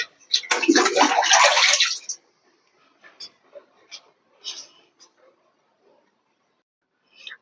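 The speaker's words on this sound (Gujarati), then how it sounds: "થોડુંક ઝાડવાને તો પાણી પાઈ દઈએ એટલે એને થોડોક ટેકો મળી જાય" Water poured onto plants during hot afternoon watering, a loud close splashing gush for about two seconds, followed by soft scattered drips and light handling sounds.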